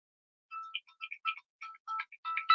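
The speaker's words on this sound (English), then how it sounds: "I got a phone call." An incoming call's phone ringtone plays alone, a bright electronic melody of short repeated tonal notes in a quick uneven pattern, fairly close and clear against silence.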